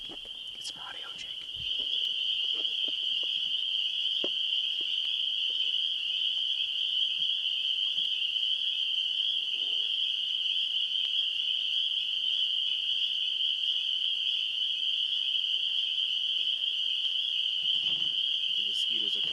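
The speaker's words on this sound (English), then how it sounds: "It was the fucking mosquitoes ringing." Insects at a creek at night produce a continuous, piercing high ringing that stays loud and unbroken, with faint whispered voices and a few rustling steps beneath it.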